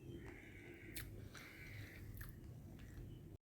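A pet bird chewing its food at home, steady close crunching and biting throughout with a few sharp scraping clicks, fairly quiet and with no talk.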